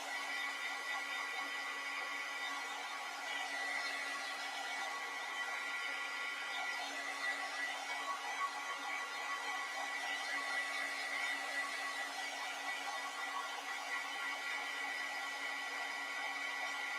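A hair dryer blows steadily over a mixed-media journal cover, a constant close whirring roar that holds level without any break or talking.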